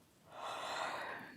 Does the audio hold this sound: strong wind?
no